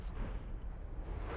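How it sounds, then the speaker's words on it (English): A napalm strike explodes in a video game, a low, heavy rumbling blast that roars continuously for a moment, loud and deep with no voices over it. "Enemy napalm strike incoming."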